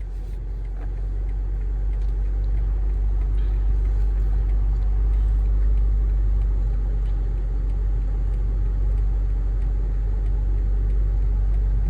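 A BMW 550i on the move, its engine and exhaust giving a steady, deep low rumble inside the cabin, constant and unchanging with no voices.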